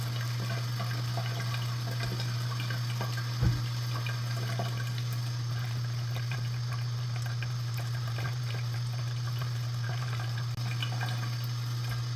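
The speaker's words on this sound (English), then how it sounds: "And then rinse off with warm water thoroughly." Warm water runs steadily from a tap for a face rinse, a continuous close splashing wash with a low hum beneath and one brief knock partway through.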